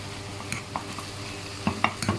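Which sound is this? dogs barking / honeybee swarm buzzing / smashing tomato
smashing tomato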